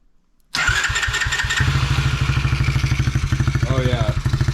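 A Tao Tao DB10 dirt bike's small engine cranks and catches after a moment of silence, then settles into a fast, clattering idle that stays close and loud, with a person speaking over it.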